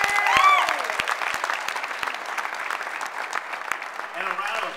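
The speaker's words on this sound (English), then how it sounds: "another round of applause for all the folks who worked hard to" Audience applause at a county Democratic convention, a dense burst of clapping that begins loud and gradually thins, with voices talking and calling out over it.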